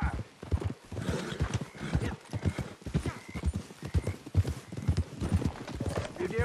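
Horses in a video game gallop in a continuous rhythmic clatter of hooves, loud and close, with a whinny and other game sounds mixed in.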